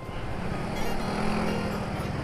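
Engine noise from a Suzuki GSX-R150 motorcycle as the throttle is worked, a steady close droning hum holding level for a couple of seconds with no talk over it.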